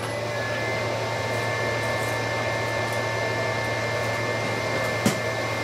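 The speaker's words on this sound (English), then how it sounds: "let's make sure our spindle is turning the right direction" A CNC spindle motor runs at steady speed, giving a continuous even whir with a constant hum beneath it, close and alone, with one brief tick near the end.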